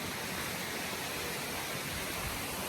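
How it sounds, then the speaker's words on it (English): A stream flows through a cave along a trail in Carter Caves State Resort Park, giving a dense, steady rush of running water heard close and unbroken. "You can hear the stream."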